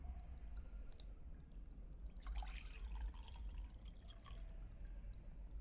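Dripping and trickling water runs off a wall inside a video game, a soft continuous splashing with a few brighter drips over low background rumble, fairly faint and without talk.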